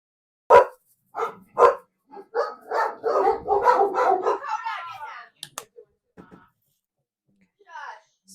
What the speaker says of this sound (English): You hear my jerk dogs.